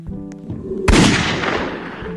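A single loud gunshot fired at a bot in the Roblox game Piggy, a sharp crack with a long noisy tail over faint game background.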